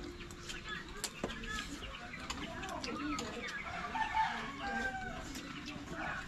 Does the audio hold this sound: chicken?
yes